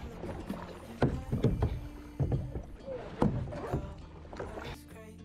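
Kayak paddling on water on an outing in Cameroon, with repeated splashing paddle strokes about once a second, close and fairly loud, against a steady low background.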